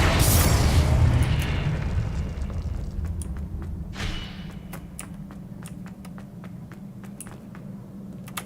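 Confringo blasting spell in Hogwarts Legacy erupts in a big booming explosion, then the roar decays into a rumbling tail speckled with small crackling pops.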